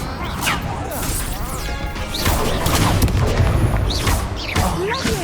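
Incendio fire spell cast in the Hogwarts Legacy video game during a wizard duel, dense crashing blasts and whooshing bursts layered over a continuous loud battle din, with occasional sharp swept tones.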